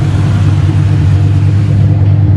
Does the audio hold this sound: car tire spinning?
yes